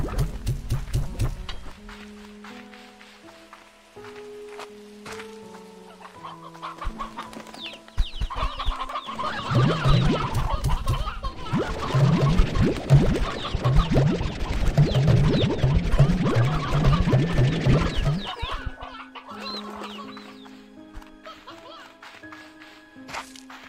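Chickens cluck and squawk in the video game Slime Rancher 2 among playful game sound effects and bouncy tones, swelling into a dense, busy stretch in the middle while a person talks over parts of it.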